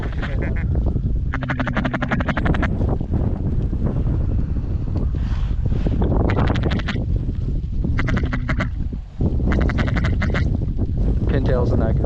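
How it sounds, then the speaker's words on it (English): Ducks quack during a waterfowl hunt in an ice storm, a mix of mallards and pintails calling in bursts against steady wind buffeting the microphone, with people talking quietly nearby. "Bunch of new ducks."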